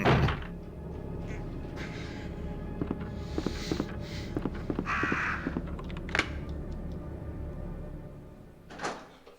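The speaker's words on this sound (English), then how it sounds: "Bye, crows. Bye, crows." Crows caw in Resident Evil 2, several sharp calls scattered over the game's ambience, mixed with thuds and door-like knocks, fairly close and moderately loud.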